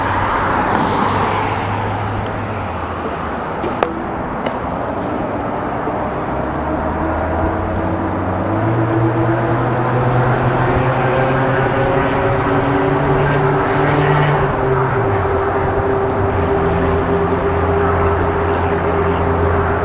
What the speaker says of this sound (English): Little traffic we got to navigate here to get across the trail.